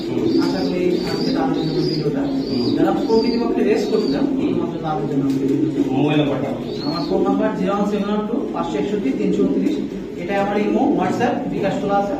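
Racing pigeons coo in a loft, soft repeated throaty calls layered over one another beneath someone speaking continuously in the foreground.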